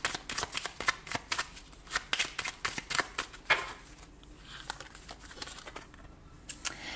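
Fairy oracle cards being shuffled for a tarot-style reading, a quick run of crisp riffling bursts up close for about four seconds, then quieter soft handling of the deck.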